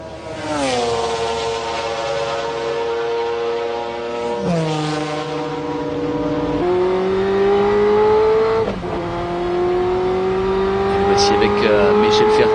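Ferrari F40 and other race cars at the 1995 24 Hours of Le Mans in early morning, a loud continuous engine roar with rising pitch through gear changes and shifts, up close and steady, with a commentator talking over it.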